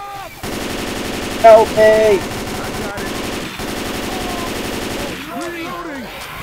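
Rapid automatic gunfire rattles steadily in the zombie shooter game Left 4 Dead 2, loud and continuous for several seconds, while players shout over it.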